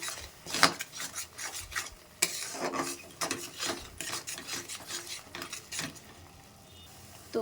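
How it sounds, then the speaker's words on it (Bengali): Cumin powder stirred in a pan with a utensil, close repeated rasping and scraping strokes in an uneven rhythm with short pauses between them. "জিরের গুঁড়োটা দিয়ে নাড়িয়ে চাড়িয়ে নেবো একটুখানি সময়"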